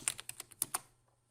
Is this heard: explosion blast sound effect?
no